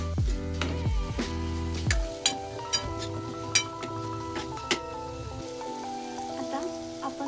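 Fried potatoes stirred into a green peas curry (matar nimona) in a pan: a soft sizzle with scattered spoon clinks and scrapes against the vessel, over quiet background music.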